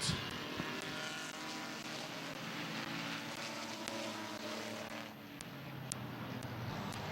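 Race cars roar together at the start of a race at Midvale Speedway, a steady wash of engine noise from the pack that holds at a constant level from start to finish.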